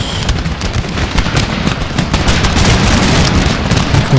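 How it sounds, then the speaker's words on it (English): Dense, continuous crackle of massed musket volleys from an Empire: Total War battle in Flanders, loud and sustained with overlapping pops and a rumbling low roar throughout. "Couple of volleys, please"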